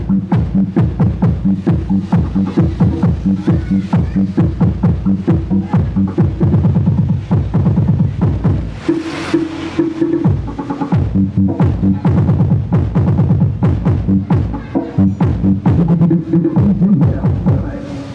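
Deep, punchy bass thumps in a steady, loud rhythm, like music pounding through a car stereo, with a short dip midway before the beat returns.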